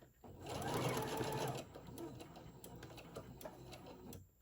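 Sewing machine back-stitching through a teddy bear body at a craft table, a loud steady mechanical whir for about a second and a half, then lighter irregular clicks and ticks as the fabric is handled.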